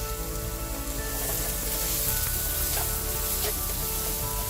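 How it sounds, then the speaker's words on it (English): Diced white onions sweat in a pan over low to medium heat, giving a soft, even sizzling hiss that holds steady from start to finish with no voices. "You just want to start sweating your onions first."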